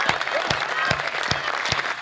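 Listeners at a Hindi comic poetry recital applaud with a steady, rhythmic run of claps, moderately loud, accompanied by faint voices underneath.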